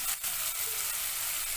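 Tomatoes added to hot ghee in a pan for a Shakotsav prasadi vegetable shaak, giving a close, steady hissing sizzle with a brief stirring clatter at the start and no voices.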